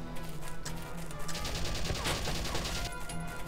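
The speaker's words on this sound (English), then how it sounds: "Watch out for their return fire." Sustained battlefield gunfire in the strategy game Valkyria Chronicles, a dense, steady fusillade of shots at moderate distance with no voices.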